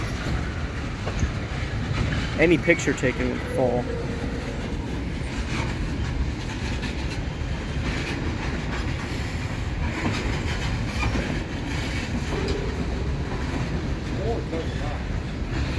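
A Wheeling & Lake Erie freight train with EMD locomotives rolls past on jointed rail, a steady rumbling clatter with occasional wheel squeal, while people talk nearby.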